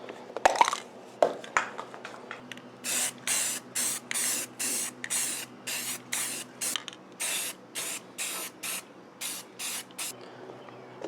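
Rapid series of short spray-paint bursts applied as touch-up on a snowmobile under restoration, about fifteen evenly spaced hissing blasts with brief gaps, close and moderately loud, after a few faint clanks at the start.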